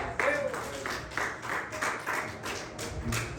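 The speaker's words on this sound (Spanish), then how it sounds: "Alguien tiene que aplaudir aquí" A congregation claps in rhythm during a Spanish-language church service in Pasadena, Texas, with steady, evenly spaced hand claps at moderate loudness and some voice in the background.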